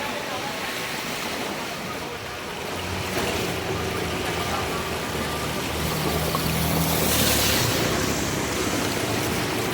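Pressurised water from a burst supply line gushes across a road in Vadodara, a broad, continuous rushing roar that grows louder over several seconds, with faint background voices beneath it.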